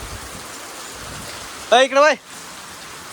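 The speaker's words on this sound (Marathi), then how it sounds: "खूप असा जोरात पाऊस चालू झालाय." Heavy first rain of the season pours down steadily as a broad hiss across the whole clip, with a short burst of speech from a nearby voice partway through.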